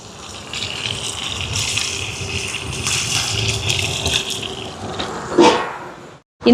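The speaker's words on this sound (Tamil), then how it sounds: "இனி வந்து தண்ணி சேர்க்க போகிறேன்." Water gushes steadily into a clay pot of sautéed chicken for biryani cooked over a wood stove, a loud continuous pour lasting several seconds. It ends with a brief splash and then cuts to silence.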